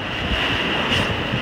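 Heavy sea waves surge around a sailing boat on rough water, a steady loud wash of surf and wind roaring across the microphone without a break.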